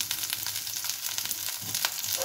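Eggplant and flat beans frying in a pan of oil with nigella seeds and dried red chilli give a steady, close, crackling sizzle that runs unbroken throughout.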